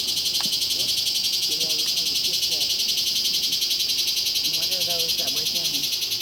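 Cicadas in Panama give off a steady, high, hissing drone that never lets up, with people talking quietly over it.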